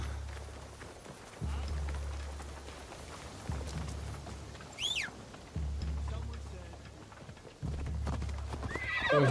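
A horse in the Assassin's Creed Shadows video game runs with loud, repeated hoof clip-clop in bursts and gives one high whinny partway through, while game audio continues underneath.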